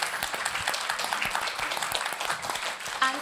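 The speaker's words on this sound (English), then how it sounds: "I'm so glad you all clapped right now" Audience applause at a tech talk, a steady patter of many hands clapping at moderate volume, continuing throughout without pause.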